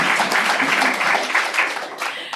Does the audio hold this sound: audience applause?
yes